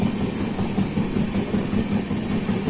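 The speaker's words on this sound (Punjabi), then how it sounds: "ਆਪਣੀ ਟ੍ਰੇਨ ਜਿਹੜੀ ਆ ਹੁਣ ਚੱਲ ਚੁੱਕੀ ਹੈ" A passenger train begins pulling out of Nanded station, a steady loud rolling rumble with engine drone and faint wheel clatter heard from on board, with no voices.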